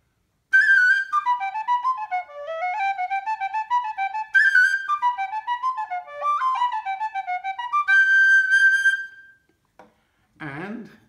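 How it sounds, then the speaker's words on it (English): Large-bore tin whistle in D playing a lively, ornamented melody of clear, bright notes with quick runs and a sustained high note, close and alone, ending with a brief faint sound after a pause. "but it's a large bore whistle."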